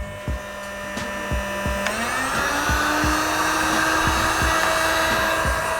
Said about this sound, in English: we're gonna crank up the heat gun just a little bit further so we can slowly and gradually, but surely, get it up there